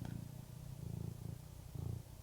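A cat purrs up close, a low steady rumbling with rhythmic pulses swelling and easing as it breathes, faint but continuous.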